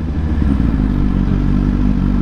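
A vehicle fitted with eight exhaust pipes revs on a street in Senegal. Its deep, throbbing engine rumble is loud and close, holding steady without a break.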